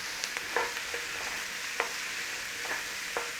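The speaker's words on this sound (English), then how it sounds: "We want to be going in there with our garlic and onions. Nice little saute, a little stir fry." Garlic and onions sautéing in olive oil, a soft steady sizzle with occasional light stirring clicks and scrapes from a utensil in the pot.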